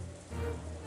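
Steady wind and rain outside a mansion in the Umineko visual novel, a soft continuous hiss and patter with a low rumble underneath, faint and unbroken.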